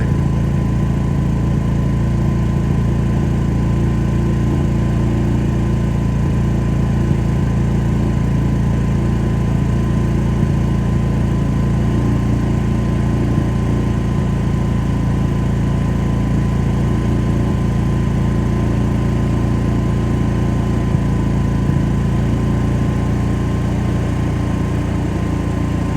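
A natural gas generator engine runs on and on at a steady, loud, buzzing drone while its gas valve is slowly closed, the tone holding even and close with no voices over it.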